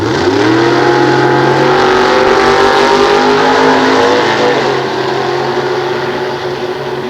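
A 1968 Camaro with a 468 big-block engine roars loudly at a nostalgia drag race at Sears Point, its sustained engine note rising in pitch as it accelerates, then easing slightly while staying steady and close.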